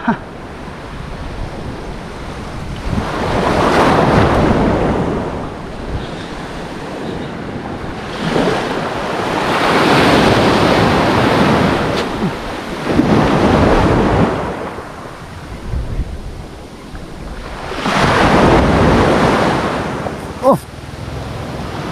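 Stormy sea surf rolls onto the shore in long, loud surges while gusts of wind buffet the microphone between each swell during a windy fishing outing.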